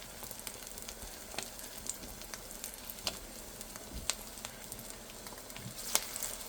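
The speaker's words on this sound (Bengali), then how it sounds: "তেলটা গরম হয়ে গেছে, এখন আমি কেসকি মাছের বড়াগুলো দিয়ে দেবো।" Keski fish fritters hiss and crackle in hot oil with a steady broadband sizzle, punctuated by sharper pops and spits, at close range with no talking.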